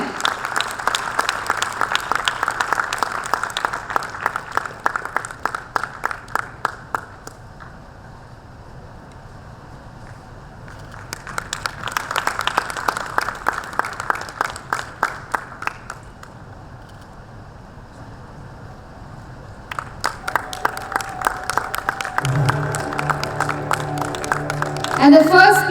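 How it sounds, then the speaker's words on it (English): Audience applause at a corporate volunteering conclave for award winners comes in three loud bursts of dense clapping, separated by quieter gaps, with a brief tonal sound near the end. "Can we have a big round of applause again?"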